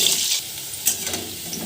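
Potatoes drop into hot mustard oil and hiss at once, a bright close sizzle with a brief surge midway, steady and without voices.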